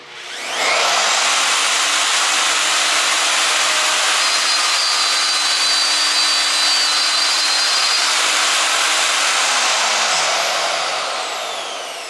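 A VEVOR plunge router cuts along a wooden board edge with a loud, steady high-pitched whine and rushing roar, running continuously from spin-up to a slight wind-down at the end, close to the listener.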